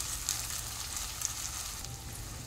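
Ginger and garlic fry with onions in a pan, giving a soft, steady sizzle with faint crackles throughout, quiet and without talk.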